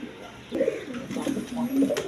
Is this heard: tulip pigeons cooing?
yes